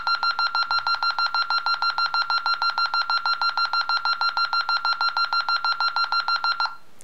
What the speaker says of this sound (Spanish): Esto significa que quedan 10 segundos.